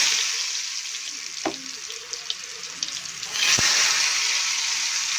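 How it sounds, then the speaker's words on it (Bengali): Ridge gourd and potato pieces with turmeric and salt fry in a pan, a soft steady sizzle with a couple of sharp clinks of a utensil. "ঝিঙে আলুটা অল্প করে একটু হলুদ আর নুন দিয়েছি, দিয়ে এবার ভালো করে ভেজে নেবো।"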